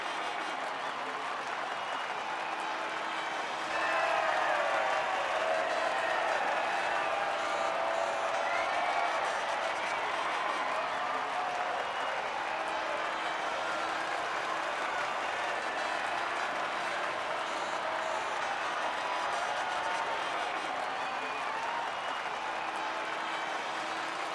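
In the F1 23 racing game, a large crowd applauds and cheers steadily for a podium ceremony. The sustained clapping swells slightly near the start and stays constant throughout.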